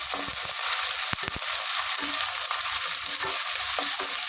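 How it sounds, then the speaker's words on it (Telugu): Finely chopped onions and green chillies fry in hot oil in a pan for chicken 65 pulao, a steady loud sizzle broken by several scraping stirs, close up and with no voices. "ఫ్రై చేసుకుందాం"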